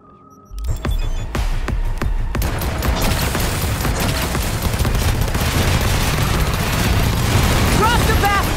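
Swarm grenades going off in Cyberpunk 2077 set off a dense, loud rumble of overlapping blasts and crackling bursts that begins abruptly and keeps going without a break, with battle noise filling the whole stretch.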